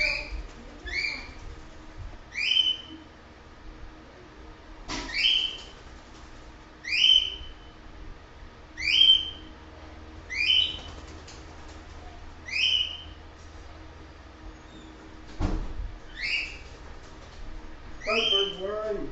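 A pet bird gives a steady series of bright, rising whistled calls, repeated roughly every one to two seconds at close range, with a few sharp knocks and brief rustling in between and no talking.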